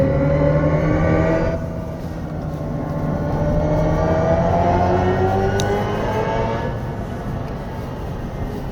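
A 2024 Hyundai IONIQ 5 N with a simulated engine sound and virtual 8-speed DCT, driven on a winding road, hums loudly and rises in pitch, with a clear gear shift early and another near the end.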